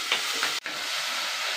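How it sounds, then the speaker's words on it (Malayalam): Onion and tomato with green chilli and curry leaves sautéing in a pan, a steady close hiss and sizzle with a quick stir and a brief break partway through. "നന്നായി വഴണ്ട് വരട്ടെ."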